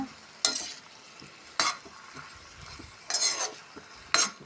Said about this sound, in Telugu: వేయించుకొని మూత పెట్టకుండా వేయించుకోవాలి